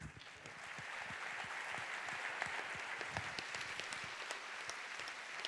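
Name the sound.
audience applause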